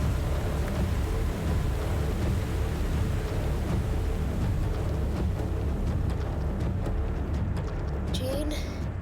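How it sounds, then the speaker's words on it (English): Steady rain falls in a VR horror video game, a dense continuous hiss with low rumbling thunder underneath, heard alone without talk. "Oh, I can't see, but I hear rain."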